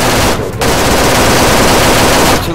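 Sustained automatic gunfire in the military shooter Arma 3, a dense, loud rattle of rapid shots running almost the whole time with one short break early on.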